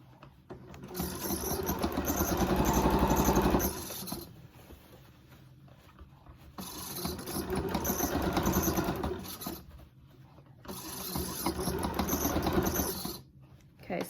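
Sewing machine stitching a non-medical fabric face mask, running in three loud sustained bursts with brief pauses between, steady mechanical whir with no talking.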